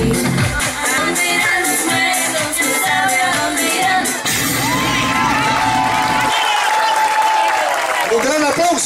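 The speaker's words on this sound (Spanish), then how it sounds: "Un gran aplauso para esta muchacha" Audience at a family reunion's cultural event applauds and cheers loudly, with whoops and shouting from the crowd throughout, under music and a speaking voice.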